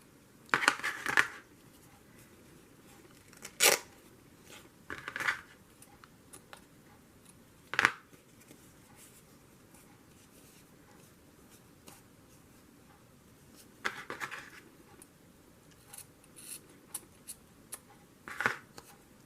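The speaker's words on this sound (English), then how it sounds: "Okay, I'm going to cut this." Scissors cutting paper for a journal, heard as a few short, crisp snips spaced several seconds apart in a quiet room, some in quick clusters, with near-silence in between.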